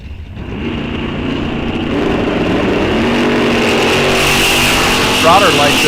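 Drag racing cars, one of them a Chevelle, roar loudly on a strip as their engines build, and an announcer talks over the noise.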